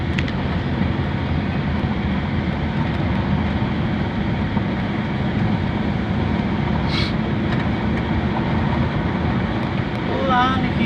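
A steady, loud rumble of an LRT light rail train rolling past in Caloocan, Philippines, continuous throughout with a brief high squeal partway through.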